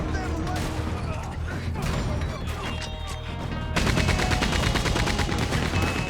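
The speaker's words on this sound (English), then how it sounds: "Oh, we got a Gatling." Rapid Gatling gun fire in Red Dead Redemption 2, a dense unbroken rattle of shots joined by crashes and gunfire noise. It turns louder and steadier partway through.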